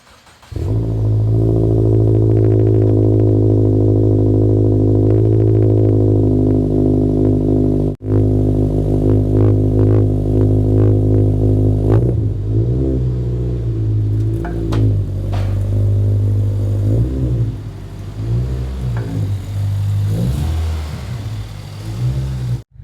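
A Subaru with an FA20 or FA24 engine idles with a deep, steady rumble, then revs repeatedly, the pitch climbing and falling in surges as it accelerates; no one speaks.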